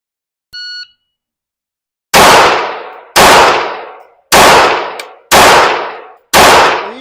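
Five sharp pistol shots fired at a target 50 feet away at a GSSF-style match, evenly spaced about a second apart, loud and close, each ringing out briefly, preceded by a short electronic beep.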